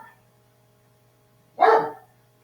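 A dog barks once, in a short sharp burst, somewhere in the room during an online class on formal communication, after a brief pause in speech.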